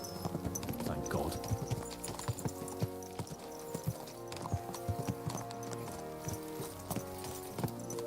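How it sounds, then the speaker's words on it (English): Horses' hooves clip-clopping in Kingdom Come: Deliverance II, a steady rhythmic patter of several horses under game music, with voices talking over it now and then. "Let's really spur these horses on, eh?"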